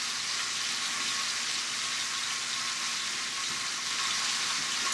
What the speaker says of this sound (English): Just let it come up to temp again and get a nice sear on it.